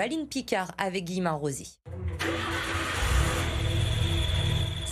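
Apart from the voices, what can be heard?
Renault 4L car engine starting after clutch repair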